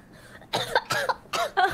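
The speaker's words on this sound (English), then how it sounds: "stop coughing, please" Three quick, harsh coughs close to the microphone, evenly spaced, during an online Among Us game session.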